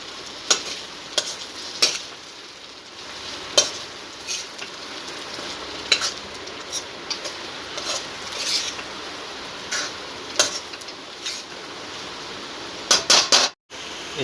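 Chicken curry with potatoes being stirred in a pan, a soft continuous sizzle broken by repeated sharp scraping and clacking strokes of a spoon against the pan, close and without speech.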